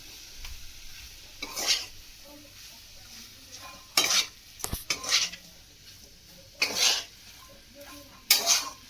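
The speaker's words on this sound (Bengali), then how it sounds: "দিয়ে এটা নেড়ে নেবো একটু ভালো করে, যাতে মাংসের সাথে আলুটা মিশে যায়।" A spatula stirring a chicken and potato filling with fried spices in a pan: about five distinct scraping, clattering strokes spaced a second or two apart over a faint background sizzle, with no speech.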